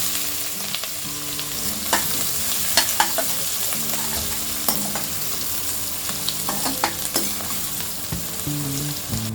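Finely chopped onion fries in hot oil with cumin and asafoetida while masala Maggi is being made, giving a continuous close sizzle with scattered crackles and the occasional scrape of stirring.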